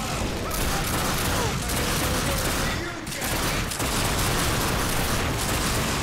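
Continuous gunfire in The Darkness 2 shooter, a dense loud barrage that runs almost unbroken, with a brief lull near the middle before the shooting resumes.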